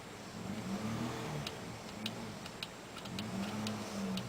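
A car engine hums low and steady with slight rises in pitch, close and moderately quiet, joined by faint intermittent ticking clicks; no one speaks.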